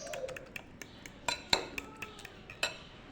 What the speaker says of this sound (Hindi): ये आहिस्ता आहिस्ता करके हम इसके अंदर ऐड करेंगे 2 स्टेप में और इसको मिक्स करेंगे